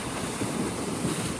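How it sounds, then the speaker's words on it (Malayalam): Strong monsoon surf breaks against the seafront at Marine Drive in Mumbai, a constant rushing wash of water mixed with wind buffeting the microphone, loud and close for a brief moment. "നല്ല ശക്തിയിൽ തന്നെ തിരയുണ്ട് ഇവിടെ"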